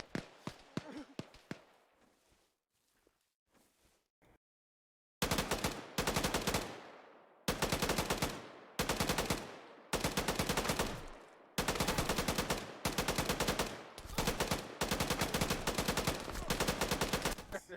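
Bursts of automatic gunfire in the military shooter Arma 3, loud and close, with sustained fire in repeated bursts separated by short pauses after a few scattered single shots and a quiet stretch.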